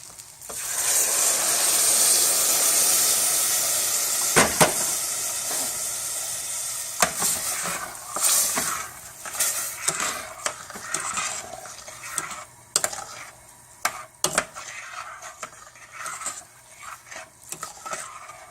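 Risotto sizzling loudly in a pan as stock is poured in, the hiss fading into a clatter of stirring, utensil scrapes and knocks against the pan, close and alone with no talk.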